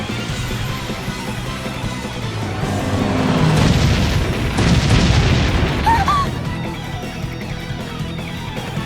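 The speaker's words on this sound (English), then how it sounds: "Cannon fire? This is madness!" Cannon fire in the Bravely Default video game, deep rumbling booms swelling into a loud, sustained roar midway and then fading under a low background drone.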